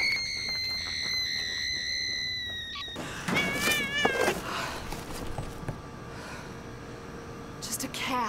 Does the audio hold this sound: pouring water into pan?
no